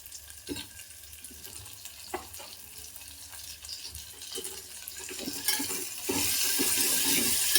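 Onion and tomato frying in a pan, with scattered stirring clicks and scrapes over a quiet sizzle that swells louder and fuller toward the end.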